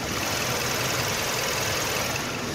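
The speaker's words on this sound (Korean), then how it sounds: "영상으로 엔진 소음 한번 담아보도록 하겠습니다." A Kia K7 gasoline sedan idles with its hood open, giving a steady, smooth engine hum with dense broadband hiss heard close and loud, with no talking.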